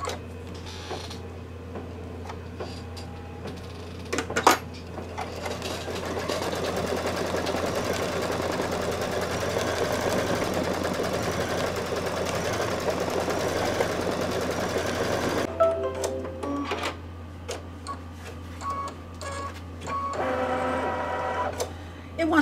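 An embroidery machine stitches all-over stippling on a Santa-themed table runner, a dense, steady mechanical rattle of rapid needle strokes that runs for most of the stretch, with a few sharp clicks and a pause near the end.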